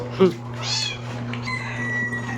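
A house cat gives a short meow close by in a home kitchen, heard beneath ongoing casual conversation and a steady background hum.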